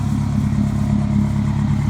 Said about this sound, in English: He's got a smaller exhaust, so it sounds really cool.